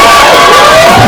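Audience at a live comedy show cheering and whooping loudly for a moment, a dense burst of crowd noise with a voice raised over it.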